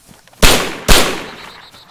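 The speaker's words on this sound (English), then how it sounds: "He's shooting you?" Two sharp, loud gunshots in DayZ fired about half a second apart, each with a decaying echo tail, close by with no talk.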